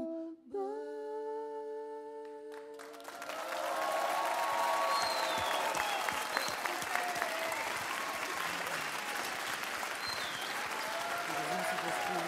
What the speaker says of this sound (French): Vous pouvez les applaudir très fort, Marina avec Morane.